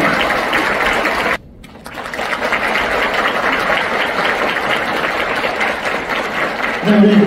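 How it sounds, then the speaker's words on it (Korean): Audience applause at a football club owner's talk concert, a steady dense wash of clapping that drops out briefly near the start, then resumes and holds loud through the end. "여러분 큰 박수로 주시면 감사하겠습니다"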